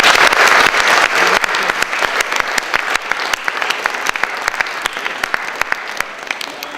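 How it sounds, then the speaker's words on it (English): Applause from a crowd of children and adults at a children's parliament in a town hall, dense and loud at first, then thinning into scattered individual claps that trail off over several seconds. "round of applause for the people who came up"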